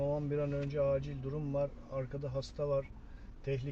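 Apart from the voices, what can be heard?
No distinct noise like a dog, phone or traffic.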